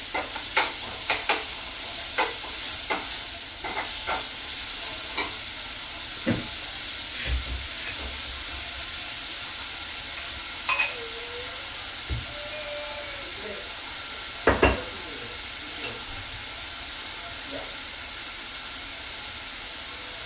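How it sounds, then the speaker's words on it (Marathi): Onion with a little salt fries in a pan: a continuous close sizzle and hiss, with repeated scraping stirs and occasional utensil knocks throughout. "कांदा आधी आपण टाकून घेतला आणि थोडंसं सॉल्ट टाकूया म्हणजे लवकर शिजेल कांदा"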